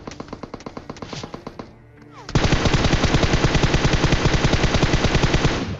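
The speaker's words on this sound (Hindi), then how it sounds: "जैसे उसने ऑटो फायर स्टार्ट कर दिया था ना" Automatic gunfire in a battle royale video game fight on a bridge: a rapid rhythmic burst, a brief lull, then a louder sustained stream of fast shots, close and dominant.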